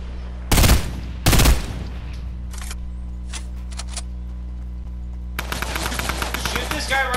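Gunfire in a video game: two loud, close bursts of shots, then a few lighter sharp reports and a rapid stuttering volley near the end, over a steady low hum.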